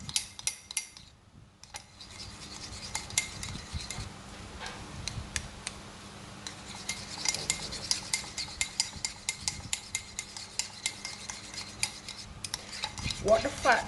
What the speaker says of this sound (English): Gonna mix this all up.